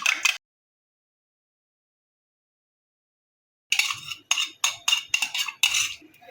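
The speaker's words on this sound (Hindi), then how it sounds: "चम्मच की मदद से काफ़ी आसानी से सारा पेस्ट मिक्स हो जाएगा।" A spoon clinks against a bowl while mixing an egg paste spiced with turmeric. One short burst of clinks is followed by a pause, then a quick run of sharp, close taps.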